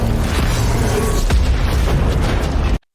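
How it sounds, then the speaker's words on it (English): A massive rocket explosion in a military video game, one loud booming blast with rumbling debris that fills the short clip and then cuts off abruptly. "With just one shot, the enemies were destroyed in a massive explosion."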